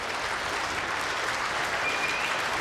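A crowd applauding a shot at an international indoor bowls event in Scotland, sustained dense clapping that holds evenly throughout and fills the space.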